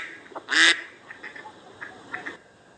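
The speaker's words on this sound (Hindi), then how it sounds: "ये तो थी बतख की आवाज" A single loud, nasal duck quack rings out up close, followed by a few fainter, softer calls against a quiet background.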